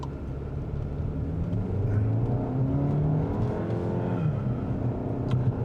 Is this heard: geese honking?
no